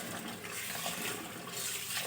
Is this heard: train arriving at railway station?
no